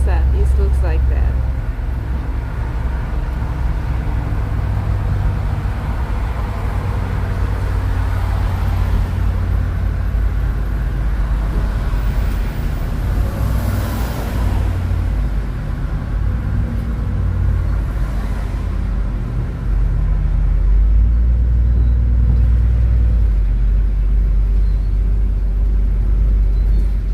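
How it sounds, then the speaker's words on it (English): Car driving along Francis Bay Drive in Darwin, a steady low road rumble and engine drone throughout, with a passenger talking over it. "We're now driving along Francis Bay Drive"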